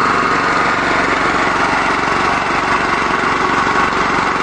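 A 13HP engine runs on producer gas from a Victory wood gasifier, with a loud, steady mechanical drone that holds constant throughout.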